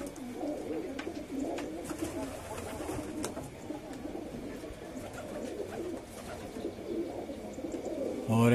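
Domestic pigeons flying in Larisa, with soft repeated cooing and scattered wingbeat flutters at a middle distance over steady outdoor ambience, a louder burst arriving near the end.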